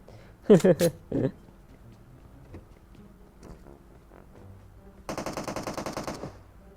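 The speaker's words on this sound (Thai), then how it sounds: "เขาโดนสกายยิงน่าจะ" Gunfire from the video game PUBG Mobile comes as a burst of rapid automatic shots, fairly loud and close, near the end. It follows a short stretch with a few brief voice sounds and quieter game noise.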